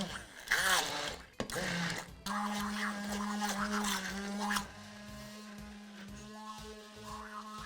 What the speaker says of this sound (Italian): poi spengo la fiamma e frullo il tutto